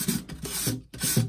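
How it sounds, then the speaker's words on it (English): Hand sanding of a chalk-painted mailbox, three close rasping strokes in quick succession, each a short scratchy rub separated by brief pauses. "do some sanding"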